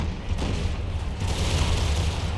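Black-powder artillery and musket volleys in a multiplayer Empire Total War mod battle, a dense rumbling barrage of booms and rolling gunfire, loud and continuous.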